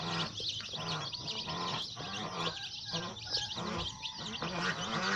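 Day-old layer chicks in a brooder make continuous dense high peeping, many overlapping chirps in a busy chorus, close and fairly loud without pause.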